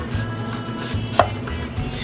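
A knife peels a butternut squash on a cutting board, giving a couple of dull thunks and one short, crisp scrape over a low background hum.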